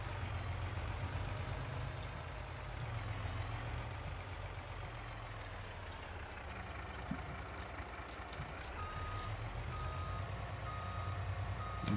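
A truck's reversing alarm beeps steadily and repeatedly over a low idling engine rumble in Farming Simulator 22, the pulses continuing for about twelve seconds with no talking.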